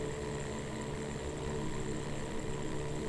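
Tractor engine in Farming Simulator 22, driving along: a steady, droning hum with a constant low tone and a faint high whine, unchanging throughout and with no talking.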